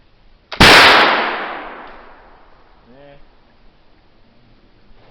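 Flintlock gun fired at a target: a sharp, loud crack from close by that fades into a long echoing decay, followed by a brief voiced sound.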